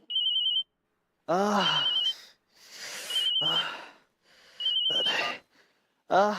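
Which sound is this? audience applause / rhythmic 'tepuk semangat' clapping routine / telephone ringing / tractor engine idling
telephone ringing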